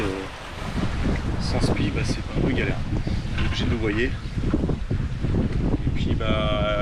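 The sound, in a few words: wind on a sailboat at sea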